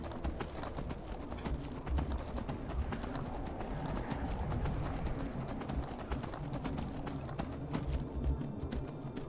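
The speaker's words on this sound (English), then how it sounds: "Horsey, can you make it this high?" Fast, continuous hoofbeats of a horse galloping across Skyrim's mountains, close and steady over a dense wash of wind and game ambience.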